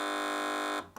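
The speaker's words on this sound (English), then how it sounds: "fingers on the buzzers" Quiz show buzzer on a panel comedy news quiz: one loud, flat electronic buzz held for most of a second, then cut off, with a brief trailing sound after.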